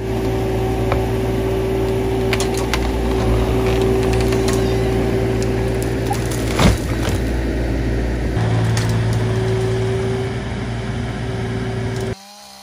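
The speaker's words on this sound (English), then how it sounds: "we're gonna go ahead and bring the excavator around and try to give her a push from the back." Excavator engine droning steadily while pushing over a partly cut redwood spar, a loud low rumble with a few creaks and cracks of wood and one sharp thud midway.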